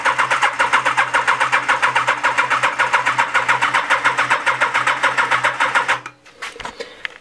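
Honda CBR 1000F SC24 motorcycle engine cranked by its starter for a compression test on a weakening battery, a loud rapid steady chugging rhythm for about six seconds before it stops abruptly.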